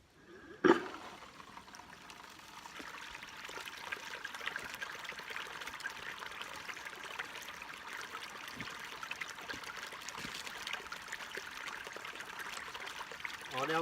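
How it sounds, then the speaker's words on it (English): Water from pumped crevice runoff pours steadily through a gold sluice set up for alluvial prospecting in East Gippsland, Australia, producing a constant close rushing trickle after a brief knock near the start. "Got the water flow where I'm happy."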